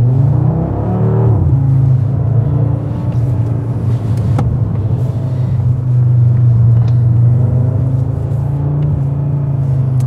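A 2022 Audi RS3 engine drones loud and steady on a private track in drift mode, a deep sustained rumble that briefly dips and then swells again as it accelerates, with no talking.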